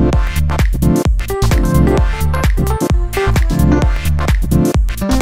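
The Launch Classic 2 preset on the Vengeance Avenger synthesizer plays a loud, bright, rhythmic sequence of punchy stabbed notes, steady and close without pauses.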